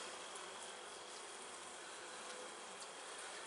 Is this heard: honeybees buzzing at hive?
yes